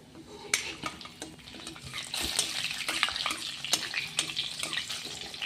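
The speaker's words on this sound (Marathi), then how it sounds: "चांगले खुसखुशीत असे पोहे तळून घ्यायचेत आपल्याला" Poha (flattened rice) fries in hot oil until crisp, giving a close, crackling sizzle with frequent sharp pops and light utensil clinks against the pan.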